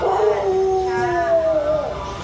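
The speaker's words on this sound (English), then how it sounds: "Puppy." A puppy howls in a long, wavering tone that rises and then slides downward, close by and fairly loud, with faint background noise on a humid island outing in Thailand.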